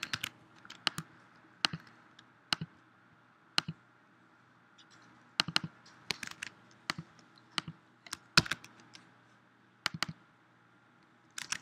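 Code being typed on a computer keyboard: irregular bursts of sharp key clicks, close and fairly quiet, with pauses between runs and no talking.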